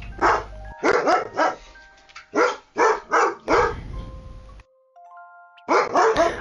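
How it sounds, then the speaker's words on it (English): A dog barks loudly and close by in repeated bursts, several rapid barks, then a short pause, then more barking. No speech is heard over it. "Oh my god, Josh's dog, shut the fuck up!"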